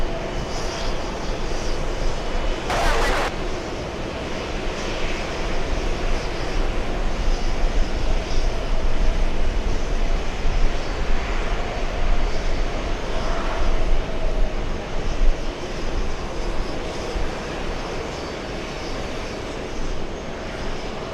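A Delta A330 airliner arriving from Barcelona fills the air with a loud, continuous jet engine roar. The roar stays broad and steady with a brief sharp click early on.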